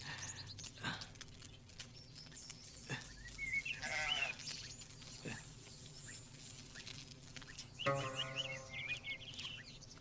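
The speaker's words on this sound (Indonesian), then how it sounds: "seekor domba kecil terbaik." A small lamb bleats several times in short cries that rise over a busy background of other sounds, with no talk during the calls.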